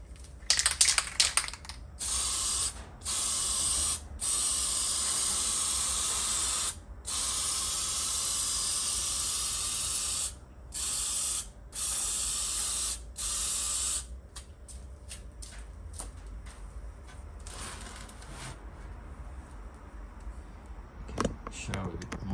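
Aerosol spray paint hisses onto a car battery tray during a VH Valiant Charger restoration, coming in close bursts of one to three seconds with short gaps and a rattle, then dropping to a quieter background.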